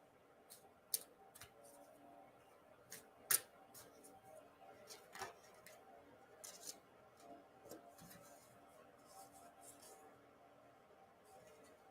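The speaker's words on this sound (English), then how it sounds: "throw cards" Tarot cards tossed down onto a surface during a reading, giving a few sharp, quiet slaps and taps scattered over a soft rustling background, with no talking.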